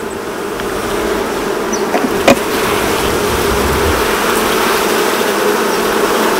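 Honey bees buzz steadily around an open hive during a nectar check, a continuous close hum with no talk.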